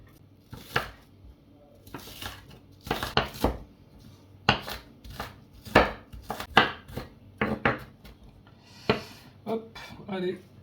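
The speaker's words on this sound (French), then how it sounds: "L'oignon, pareil, on va le couper assez finement." An onion is finely chopped by hand with a knife on a board for chicken kefta, giving sharp, uneven bursts of close knife taps with short pauses between runs. A voice talks now and then.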